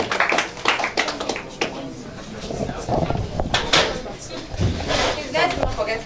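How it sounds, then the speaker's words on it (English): Scattered audience clapping at a robotics competition grand finale, uneven and fairly close, with an announcer's voice and room noise mixed in throughout. "A round of applause for her."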